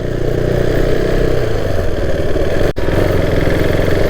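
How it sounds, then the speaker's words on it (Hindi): A KTM RC390 motorcycle engine runs steadily and loudly at close range while riding on a slightly rough road, with a brief dip near the end and no talking. "तो चलो बाइक पे चलते हैं और फिर शुरू करते हैं।"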